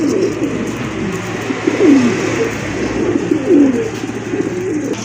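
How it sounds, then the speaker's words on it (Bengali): Pigeons coo in low, throaty bursts, several rolling calls close by over a steady murmur of background noise. "এখানে কিন্তু আরেক জোড়া কবুতর চলে আসছে"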